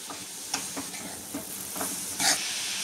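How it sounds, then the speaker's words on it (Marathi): A pan of grated coconut and milk powder being stirred and roasted, with scraping strokes of the spoon over a soft, steady sizzle and a few louder clinks near the end, close and clear. "ह्याच्यात मी मिल्क पावडर आता घातलेली आहे आणि ते परतून घेणार आहे मी चांगलं"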